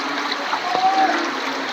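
Water gushing out of a pipe into an overflowing canal, a steady broad rushing and splashing that stays continuous and fairly loud throughout, with no pauses.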